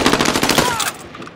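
Rapid automatic gunfire in Call of Duty Warzone, a burst of dense, loud repeated shots over the first second before it drops off into quieter game ambience.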